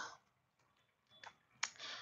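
Tarot cards being shuffled make faint, sparse clicks and short soft riffling bursts in a quiet room, with the longest burst near the end.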